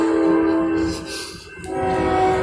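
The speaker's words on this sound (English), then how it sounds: "Another freight train!" A freight train rolls past with its horn blaring in a steady held tone, loud and close, the horn dipping briefly mid-pass before sounding again.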